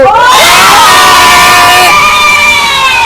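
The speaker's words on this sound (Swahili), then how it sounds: "Piga kelele kwa Yanga yetu." Yanga football supporters from the Migombani branch roar together in a loud, sustained burst of shouting and cheering, a dense crowd cheer filling the whole stretch with voices rising in pitch.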